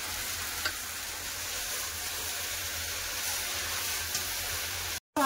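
Greens frying in a pan, a steady loud sizzle with faint stirring scrapes throughout, broken by a brief gap near the end.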